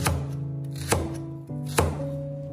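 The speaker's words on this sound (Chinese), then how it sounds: "准备1小块的生姜，切成厚片，再准备1节大葱，切成斜段。" A knife chops through a small piece of ginger and a length of leek, with three distinct, evenly spaced thuds on the cutting board, close and clear with no voice.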